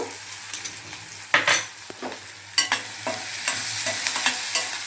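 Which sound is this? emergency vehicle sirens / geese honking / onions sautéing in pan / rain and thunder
onions sautéing in pan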